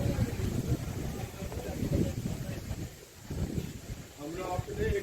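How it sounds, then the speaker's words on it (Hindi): Strong gusty wind blows outdoors in a village after an evening temple aarti, rumbling across the microphone in steady low buffeting waves with brief lulls, while faint voices murmur in the background. "सुंदर सुंदर हवा चल रही है"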